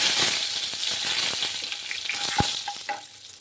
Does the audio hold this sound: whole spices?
yes